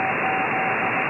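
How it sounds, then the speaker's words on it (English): Amateur radio band noise carrying Morse code signals, a steady hiss with a faint continuous tone running through the whole short stretch. "this is actually all Morse code."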